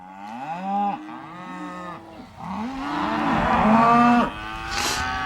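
Several calves moo loudly and close by, a run of drawn-out bellowing calls that overlap and rise and fall, with no talking.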